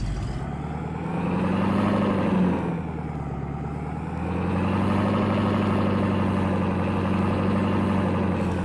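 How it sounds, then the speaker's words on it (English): A truck engine in Farming Simulator 22 idles with a holed muffler. The rumble is steady and throaty, swells slightly in the middle and keeps going the whole time, alone with no talk. "it sounds like it might have a hole in the muffler, too"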